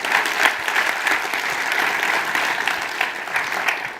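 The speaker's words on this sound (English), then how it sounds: "Let's have another round of applause for Rachel." An audience at an engineering institution's presidential address claps steadily, a dense, even round of applause that carries on for several seconds without fading.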